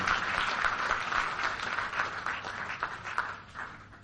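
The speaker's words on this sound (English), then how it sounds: "can we give them another round of applause?" An audience at an evening awards ceremony claps in a sustained round of applause, a dense, even patter of many hands that thins slightly toward the end.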